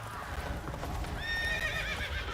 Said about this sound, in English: That's a horse running in the other direction.